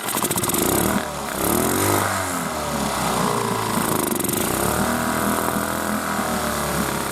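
A motorcycle or similar small engine runs steadily at low revs on a hunting trip in the Komi forest, a close, continuous rough idle with a slight dip early on and no speech over it.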